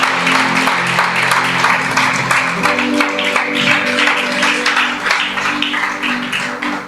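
A church congregation claps for the Lord at an evening worship service, dense, loud sustained applause filling the room with a held musical tone underneath, gradually thinning toward the end.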